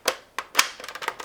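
A NERF sniper blaster is cocked slowly by hand, giving a few sharp plastic clicks and rattles up close, spaced unevenly and then settling into a quicker run of lighter ticks.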